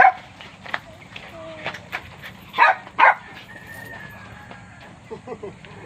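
A dog barks twice in quick succession at mid distance, with roosters crowing and chickens clucking around it and faint voices in the background.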